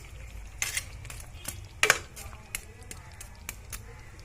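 Chicken pieces go into a pot of boiling water for home-cooked meat pulao before a lid covers it, heard as a few sharp metallic clinks and clatters over a low background hum.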